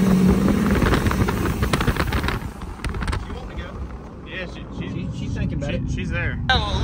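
A cheap Duramax diesel truck drives on the road, its engine droning steadily and loud up close along with wind and road rumble, while people talk over it.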